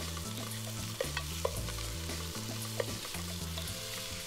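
Thin strips of beef round sizzle steadily as they are stirred in a pot over a browning base, with a constant frying hiss and a few soft scraping clunks, under a low musical backdrop.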